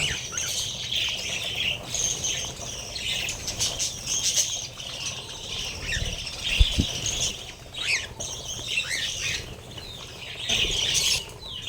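Tame pet birds squawk and chirp close by with repeated bursts of wing flapping as they feed, a steady busy chatter of calls throughout with one louder thump midway.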